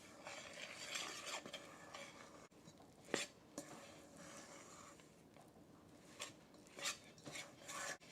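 A spoon stirs a blueberry mixture into flour and nuts in a bowl, making soft continuous scraping and rubbing with occasional light clinks, fairly quiet and close.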